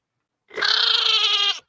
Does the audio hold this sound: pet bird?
no